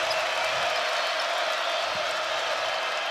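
A basketball crowd roars steadily at Coleman Coliseum during an Alabama versus Florida game, a dense, even wash of cheering that holds without break for the whole moment.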